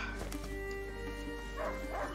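A hunting dog in the video game A Plague Tale: Innocence gives a few short, soft barks and yips over steady game ambience and background music.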